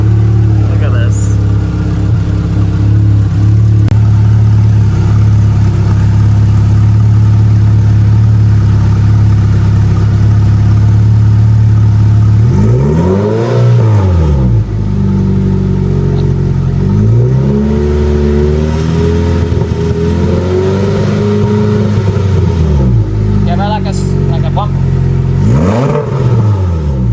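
A 2006 Lotus Elise engine revs up loudly and close by, with throttle blips rising and falling in several bursts over a steady idle, while a person talks intermittently over it.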